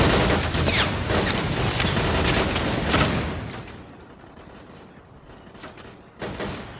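Dense, sustained enemy gunfire strikes a wooden box used as cover in S.T.A.L.K.E.R.: Clear Sky, a loud rattling barrage that fades after a few seconds and ends with one sharp late impact.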